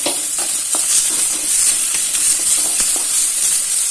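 Onion, garlic and ginger fry in hot oil for a North Karnataka–style hennegaayi palya, giving a steady close sizzle broken by light scraping stirs, with no voices.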